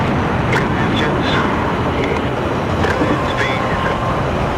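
Aircraft engines in a PC flight game drone in a loud, steady roar that fills the whole stretch without a break, while a voice talks briefly over it.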